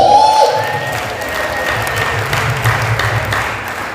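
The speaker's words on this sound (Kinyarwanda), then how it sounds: "Mukomere Yesu amashyi." A church congregation claps for Jesus in a dense, even wash of applause that fades slightly toward the end, with a soft sustained tone and a faint murmur of crowd voices underneath.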